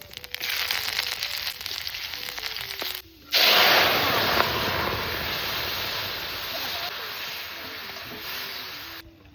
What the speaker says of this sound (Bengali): দিয়ে দিচ্ছি সর্ষের তেল শুকনো লঙ্কা কালো জিরে আদা